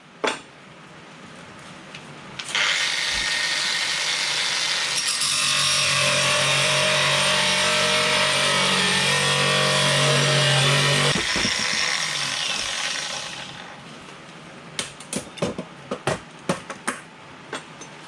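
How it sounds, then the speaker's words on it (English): Metal parts cut for welding during restoration of a 1982 VW T3 single cab, heard as a loud, continuous grinding screech lasting about ten seconds, close up, followed by a string of sharp metallic clanks and taps. "Cutting the parts for welding to this piece here."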